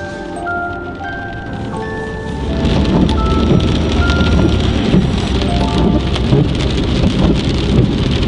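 Steady rain falls on outdoor surfaces, a dense wash of patter that swells louder after the first couple of seconds and holds, with no talking.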